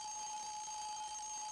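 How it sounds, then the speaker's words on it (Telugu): An alarm clock rings with a steady, continuous electronic tone, loud and close, filling the whole moment without any talk over it. "పొద్దునే ఎలాగూ లేస్తాడుగా, మళ్ళెందుకు అలారం?"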